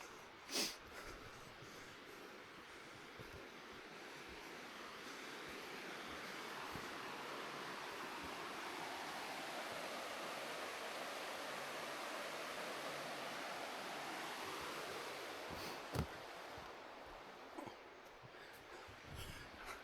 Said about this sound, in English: definitely running water.